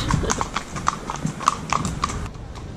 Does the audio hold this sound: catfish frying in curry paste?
no